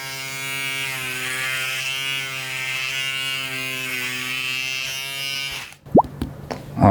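A Panasonic ES-RM3B Arc 3 electric shaver runs close and loud with a steady, tonal buzz for several seconds as it shaves against the grain, then cuts off into a few clicks and knocks.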